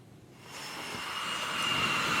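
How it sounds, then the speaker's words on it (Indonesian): A US Navy Super Hornet fighter jet launches from the aircraft carrier USS Abraham Lincoln, its engine roar swelling within the first half second into a loud, steady broadband rush with a high whine. "Jet tempur Super Hornet Angkatan Laut Amerika Serikat lepas landas dari kapal induk USS Abraham Lincoln."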